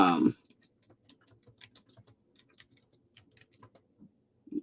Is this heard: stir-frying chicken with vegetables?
no